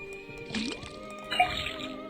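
Liquid running from an untapped faucet in the Detective Grimoire puzzle game, a wet, squishy trickle with a bubbly drip and splashy fill over steady game music, moderately loud.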